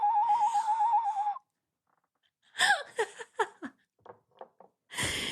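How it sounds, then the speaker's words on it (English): A warbling, trilling whistle sounds for about a second, followed by silence and then some short chirpy, breathy sounds. "It's my little bird whistle."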